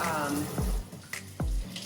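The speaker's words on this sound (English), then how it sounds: "So now I'm gonna turn on some cold water" Cold water runs from a kitchen tap to rinse salt-rubbed steaks, a constant splashing flow close by, broken by two quick descending squeaky sweeps as the stream is shifted.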